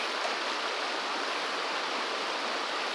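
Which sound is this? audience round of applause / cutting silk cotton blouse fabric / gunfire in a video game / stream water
stream water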